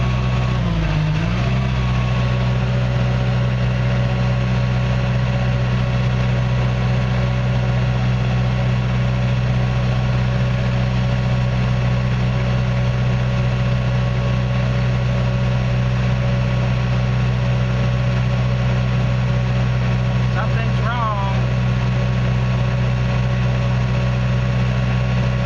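A CAT D5K bulldozer's diesel engine runs steadily at raised RPM, a loud, constant low drone with a deep rumble and a brief shift near the end, with no talking.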